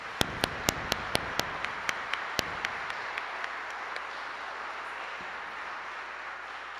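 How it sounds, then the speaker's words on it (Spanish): A few slow, sharp handclaps ring out in a quiet church during a memorial mass, the claps fading and thinning after a couple of seconds into near silence. "Un aplauso para ella."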